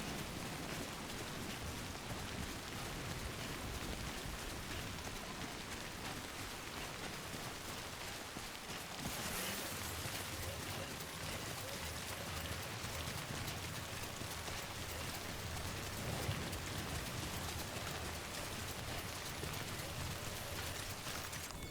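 Steady rain hisses without a break in a video game, a dense, even wash of timefall pattering over the whole stretch with no voices.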